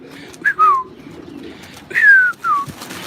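Pigeons coo nearby in two short bursts of soft, falling calls separated by a quiet gap, clear over faint background noise.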